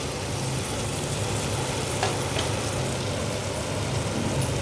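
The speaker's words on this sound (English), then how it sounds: "otherwise the masalas will burn. Keep stirring a little bit." Masalas fry on a low flame in a pan while being stirred, a steady dense sizzle close up with a faint scrape of the spoon, no voices.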